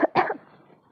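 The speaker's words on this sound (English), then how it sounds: "cough and sneeze into your upper sleeve elbow" A person coughs into the upper sleeve at the elbow, two quick muffled coughs in close succession, the second longer, followed by a brief quiet breath.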